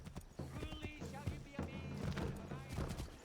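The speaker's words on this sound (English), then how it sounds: "call your horse" A summoned horse in Assassin's Creed 3 Remastered trots up with rhythmic clip-clopping hooves and lets out a clear neigh, close and prominent, with a person talking over it.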